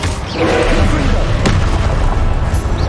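A Confringo fire spell from Hogwarts Legacy bursts with a loud, booming blast followed by a sustained rumbling roar, while the other spell effects whoosh faintly in the background.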